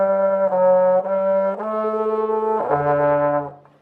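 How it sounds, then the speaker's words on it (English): A brass instrument played with a super tight, clamped embouchure gives a run of loud, sustained, buzzy notes that shift pitch several times, close and alone. "If I play with a super tight embouchure, it would sound like this."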